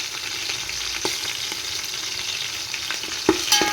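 Green chilies fry in a pan, a continuous close sizzle with a few soft stirring knocks, no voices.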